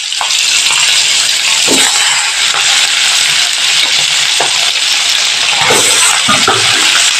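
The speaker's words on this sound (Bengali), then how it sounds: "এবার আমি পরের মাছগুলো তেলের মধ্যে ভাজার জন্য অ্যাড করে দিলাম" Sardines added to hot oil sizzle loudly and continuously up close, a dense crackling hiss with occasional splattering pops and stirring clatters throughout.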